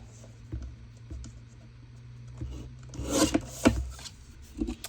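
A thin sliver trimmed from the edge of a glued one-sheet paper folio mini journal, heard as soft close rubbing and scraping strokes that grow louder and busier toward the end, with no voices.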